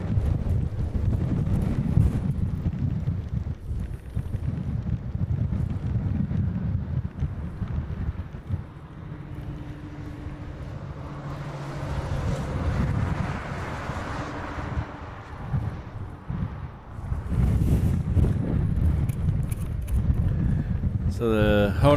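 Wind gusts steadily at an airport planespotting spot beside Honolulu's runway in Hawaii, a continuous low roar against the microphone that eases briefly midway and then returns, while a person talks over it.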